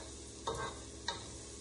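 Chicken fries in a pan with a low, steady sizzle, broken by two quick scraping stirs close by.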